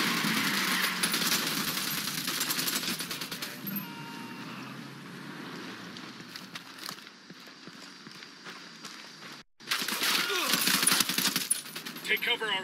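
Gunfire from the video game Tom Clancy's Wildlands rattles in dense, rapid bursts, with steady game noise filling the background and a brief drop to silence before the shooting resumes.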